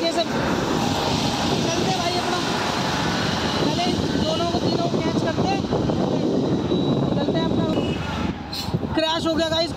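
A Kawasaki Ninja motorcycle on the road gives a continuous loud engine drone with heavy wind rush at the microphone, steady throughout and briefly dipping near the end.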